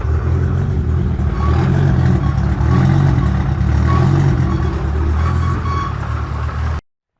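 A built Toyota Supra engine idles steadily up close with a loud, continuous low rumble and a lumpy cam rhythm, with no voices over it until it cuts off near the end.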